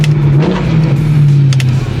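A BMW E92 M3 engine revs sharply on a downshift, a loud, close, droning blip that rises and settles while the car rolls on, with no talking.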